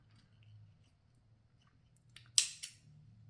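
Small thread cutter snipping thread while making holiday earrings or ornaments, a single crisp close snip with a short follow-up click over faint low hum, no voices.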